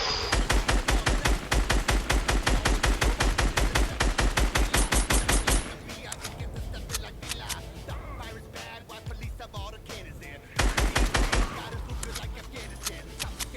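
Rapid automatic gunfire in the video game Fortnite, long loud bursts of evenly spaced shots, a quieter stretch with a voice talking and softer game sounds, then another sharp burst of fire.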